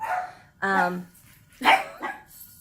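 A dog barks and yips in short, loud bursts with pauses between them, sounding agitated and upset while kept apart from other dogs in the house.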